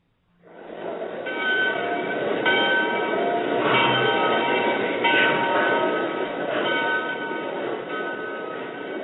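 A radio drama sound effect of a train on a Berlin departure swells in quickly, then rumbles along steadily with a clanking, bell-like metallic ring over the rolling wheels, loud and continuous with no speech.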